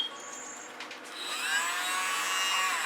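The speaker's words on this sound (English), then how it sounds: "I want to use my little blower." A small air blower hisses onto fluid acrylic paint, starting softly and rising to a steady, fairly loud whine and rush of air.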